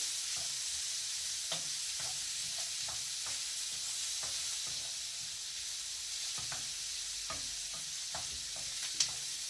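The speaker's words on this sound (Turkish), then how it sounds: "Soğanımızı ekliyoruz arkadaşlar tavamıza" Onions sizzling in a frying pan with liver for a stew, a constant bright hiss broken by repeated scraping stirs, close and steady with no talking.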